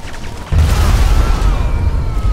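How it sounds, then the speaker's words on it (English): A meteor crashing and exploding in a GTA V Thanos mod: a sudden heavy impact boom that swells into a sustained rumbling roar, loud and alone. "There's the meteor. It's crashed into the ground."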